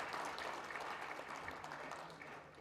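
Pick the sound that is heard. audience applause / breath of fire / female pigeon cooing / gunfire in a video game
audience applause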